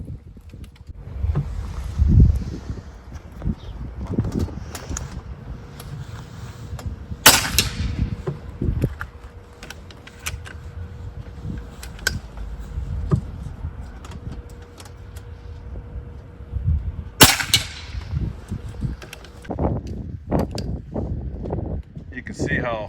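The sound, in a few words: 30 caliber airgun shots outdoors in gusty wind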